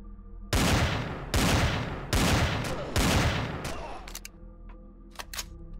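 Four loud, rapid bursts of weapon fire from the space survival game Empyrion - Galactic Survival, each ringing out before the next, then a few faint ticks and clicks.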